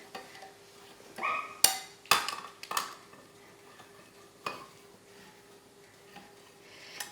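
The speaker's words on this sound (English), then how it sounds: "This is a nice can opener" A manual can opener working through cans of diced tomatoes in a home kitchen gives a quick run of sharp metallic clicks and clanks early on, followed by a few softer, scattered taps in an otherwise quiet room.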